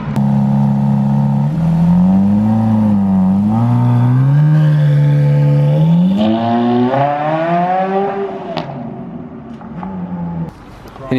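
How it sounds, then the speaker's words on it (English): A Bentley car accelerating hard from close inside the cabin, its engine note climbing and dropping through gear changes with a loud, steady roar that eases off toward the end. "This is our taxi home."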